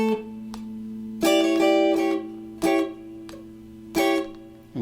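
A funk guitar plays the 4 chord in A, moving from sus4 to the 3rd, with three sharp strummed stabs ringing over a sustained note in a rhythmic pattern, close and alone.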